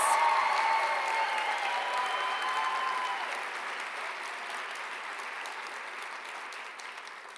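A final round of applause for student award recipients at a university fine arts spring convocation, dense steady clapping from a large seated crowd that starts strong and slowly fades, with no talking over it.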